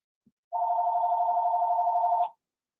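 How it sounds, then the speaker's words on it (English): A telephone rings in one continuous electronic tone lasting nearly two seconds, steady and clear, with no talk over it. "why is the phone still ringing up?"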